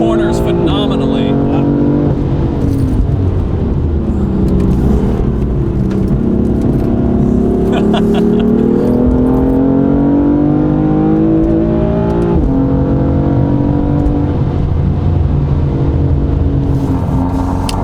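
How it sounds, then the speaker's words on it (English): A BMW M4 coupé driven hard through corners, its engine droning loudly from inside the cabin with rising and falling revs and gear changes while someone talks over it. "Definitely feel how stiff that chassis is, though. I'm not pushing it that hard, but that thing corners phenomenally."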